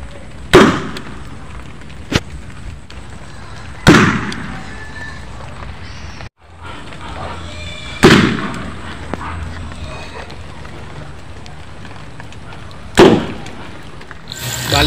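Homemade PVC boga cannons fire loud, sharp booming blasts about four times at irregular intervals, each with a short decay, over steady outdoor background noise.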